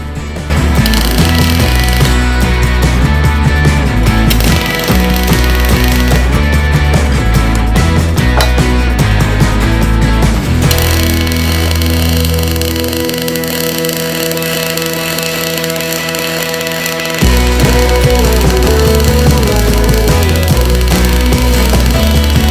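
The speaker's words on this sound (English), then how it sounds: "Let's give it a tack weld." A tack weld on a steel T-joint, heard as a loud, steady buzzing crackle of the welding arc with a rattling machine hum, continuous throughout, shifting in tone partway and then resuming.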